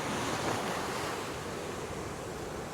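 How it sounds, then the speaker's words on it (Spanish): Ocean waves wash onto the shore at Loíza, Puerto Rico, a steady broad roar of surf with wind buffeting the microphone. No voices are heard. "Pero miren esto y este sonido del mar aquí."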